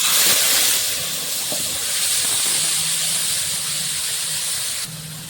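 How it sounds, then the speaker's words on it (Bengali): A prepared spice mixture poured into hot tempering oil holding bay leaf, dried red chilli and black cumin, for a milk-based stuffed pointed gourd dish, gives a loud steady sizzling hiss that runs close and continuous, dropping slightly near the end. "এবার মিশ্রণটা যে বানিয়ে রেখেছিলাম সেটা ঢেলে দিচ্ছি"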